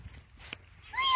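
A cat meows once, a rising, fairly close call near the end, after a few faint thuds and quiet background sounds in a village setting.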